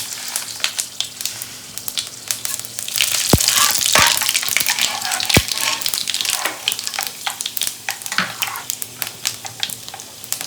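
Dry red chillies, fennel seeds and five-spice hiss and crackle in plenty of hot oil for a sour-sweet mango pickle, a steady close sizzle with sharp pops and a few scraping stirs, no voices.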